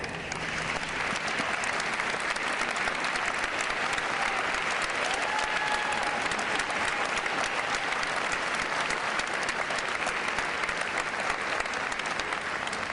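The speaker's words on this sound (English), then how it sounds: "may I ask you to please stand and accept a well-earned applause for your service" Sustained audience applause at a university investiture ceremony, a steady dense wash of clapping from a large crowd honoring faculty and staff, continuous and even throughout with no talk over it.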